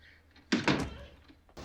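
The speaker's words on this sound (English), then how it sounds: "You gonna close the door?" A door swings shut indoors with a couple of solid thuds, a sharp close followed by a brief rattle, near and loud against a quiet room.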